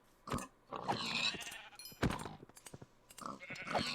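Sheep bleating in Minecraft, several wavering bleats in bursts across a few seconds, fairly close and loud, with no talk over them.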